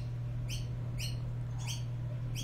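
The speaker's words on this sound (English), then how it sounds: "those birds are really loud." Birds chirp loudly in short bright bursts, roughly every half second, over a steady low electrical hum, with no talking.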